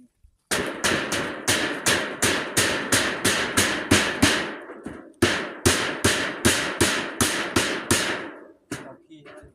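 Steady, rapid hammer blows ring out while a roof is being built, about four strikes a second in two long runs separated by a brief pause, close and loud with no talk.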